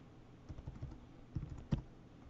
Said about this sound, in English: hit P on the keyboard